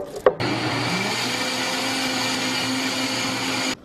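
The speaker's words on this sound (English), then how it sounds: "Now I'm going to spoon this cauliflower onion mixture into a blender, so we can make it more of a sauce." A blender whirs a cooked cauliflower and onion mixture into a sauce, starting after a short knock and running loud, steady and close for a few seconds before cutting off.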